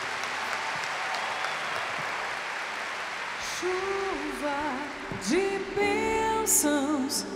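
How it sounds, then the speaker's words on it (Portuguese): A church congregation at a worship service applauds the Lord in a steady wash of clapping; midway through, sustained singing or music rises over the applause and grows louder toward the end. "Aplauda mais forte o Senhor e cante ao teu Deus"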